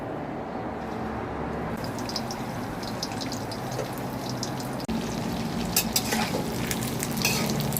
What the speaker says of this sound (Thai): ทอดเต้าหู้ก่อนนะคะ